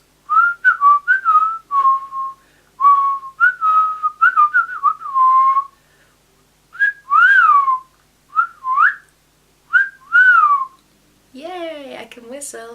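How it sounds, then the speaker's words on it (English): A person whistling up close in short melodic phrases with gaps between them, slightly wavering in pitch, followed at the end by a brief voiced sound. "Yay, I can whistle."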